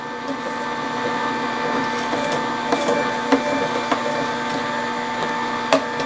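A steady mechanical grinding hum from a cold press juicer crushing apples, with occasional sharper crunches and cracks as the fruit is pressed, continuous and close.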